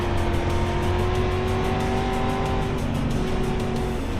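Race cars in the iRacing sim, a loud continuous engine drone with rising and falling tones as cars pass close by, steady throughout.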